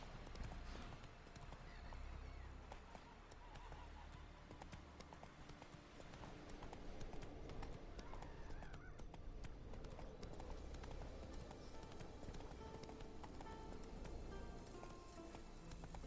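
Hooves of Roach the horse clip-clopping in the video game Witcher 3, a steady galloping patter under continuous game music and ambience.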